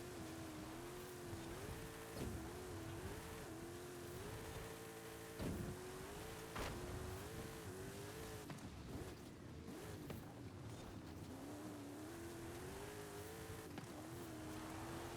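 A Jeep Gladiator races in the video game Forza Horizon 5, with a steady engine drone that shifts pitch as it accelerates and changes gear, plus a few sharp clicks and knocks, continuous and fairly loud throughout.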